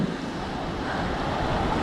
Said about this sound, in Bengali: পানি অনেক নুনতা কিন্তু কি অবস্থা পানির ঢেউ অনেক বেশি